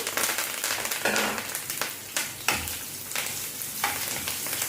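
Chopped onion and curry leaves sizzle in a pan at low volume while a spoon stirs and scrapes them in uneven bursts. Nobody talks.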